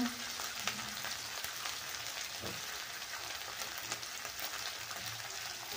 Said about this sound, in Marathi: आपण टोमॅटो टाकून परतून घेणार आहे